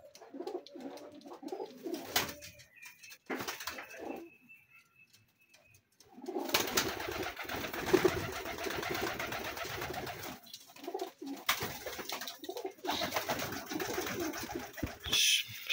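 Feather-footed crested pigeons cooing softly, with intermittent low coos and rustling that swell into a busier, louder stretch of calls and movement in the second half, close to the listener.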